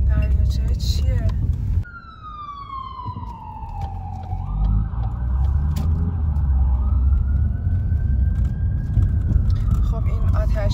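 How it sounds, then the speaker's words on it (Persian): Fire truck siren on a city street near a lake, loud and close, its wailing pitch sliding down then rising again over steady traffic rumble, with a person talking partway through. "خب این آتش نشانیه."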